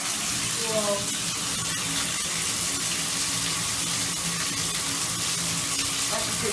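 Tap water pours steadily into a household bathtub, a continuous loud hiss and splash that lasts the whole time, with a brief faint voice near the start.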